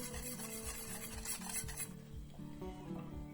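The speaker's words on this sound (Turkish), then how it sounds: "Şekerim eriyinceye kadar karıştırıyorum." A spoon stirs milk and sugar in a pot for a no-bake cake, making quiet rhythmic scraping and rasping strokes against the pot over a low steady hum.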